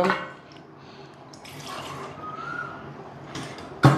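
A cup of water is poured into a cooking pan with sugar, giving a soft, close trickle and splash over a quiet kitchen background, ending with a sharp knock.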